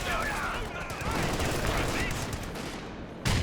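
Sustained machine gun fire from a Company of Heroes 2 battle, a loud, dense rattle of gunfire running continuously through the clip, with a heavier burst near the end.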